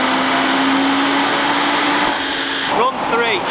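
A 2022 Audi RS3 engine on a dynamometer, a sustained loud droning roar with a steady rising tone that cuts off sharply near the end, followed by a brief warble as it winds down.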